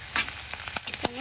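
Egg frying in a pan gives a brief hissing sizzle dotted with sharp crackles and clinks, and a voice starts speaking right at the end.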